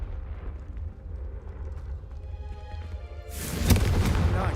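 A Confringo spell blasting candelabras in Hogwarts Legacy: low rumbling ambience, then a loud fiery explosive burst near the end that swells and lingers; no talking.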